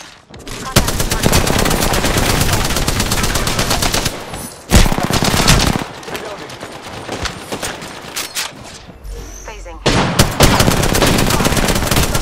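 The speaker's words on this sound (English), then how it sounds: "They spotted me. I'm taking shots." Shooter video game gunfire: long, loud bursts of rapid automatic fire that run almost unbroken, with brief pauses and a few heavy single shots between volleys.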